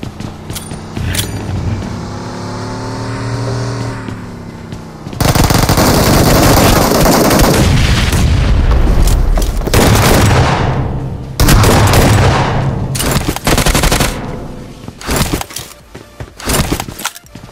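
Loud shotgun fire in a video game, coming in dense, repeated blasts and rapid bursts that carry through most of the stretch, with a quieter tonal passage before the shooting starts.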